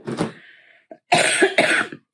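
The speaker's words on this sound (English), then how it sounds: "you heard the cough" A person coughs near the microphone: one short cough, a brief pause, then two quick harsh coughs in close succession, with quiet room tone around them.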